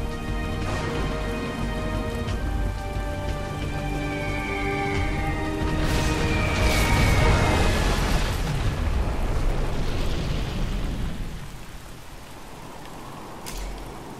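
A nuclear missile launch in the real-time strategy game C&C Generals Zero Hour, heard as a loud, sustained roaring rumble with layered tones that swells and then fades into a quieter hiss.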